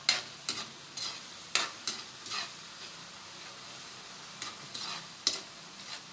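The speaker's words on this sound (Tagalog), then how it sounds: "Pag nagisa na si giniling, saka si bagoong, pwede na nating ilagay ang gulay." Ground meat and shrimp paste sauté in a pan, with a soft sizzle punctuated by sharp scraping clicks of a utensil stirring at irregular intervals, close and fairly quiet, no voices.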